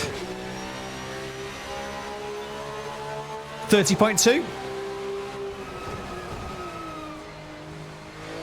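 A Porsche GT3 race car engine in the Assetto Corsa sim drones steadily at high revs, jumping into a sharp, loud rev burst partway through, while a person talks over it.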